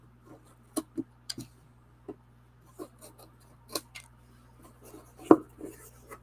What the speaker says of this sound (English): we're going to trim these off with our sharp scissors